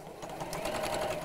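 Home sewing machine stitching fabric, a quick, even mechanical whirr of needle strokes heard close up for just over a second.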